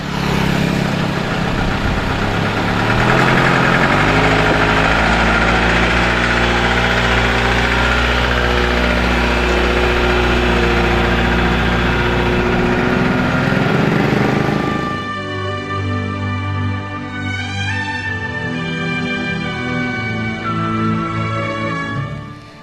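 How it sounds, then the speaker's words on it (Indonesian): A loaded sugarcane truck at a cane field harvest runs its engine, a loud, deep, steady rumble with strong throbbing harmonics that settles into a lower, smoother idle partway through, with no one talking. "Mesin pun mulai dinyalakan."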